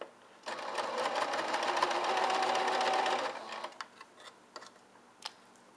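A home sewing machine stitches a pettiskirt seam in one steady, close whirring run of about three seconds, followed by faint handling clicks.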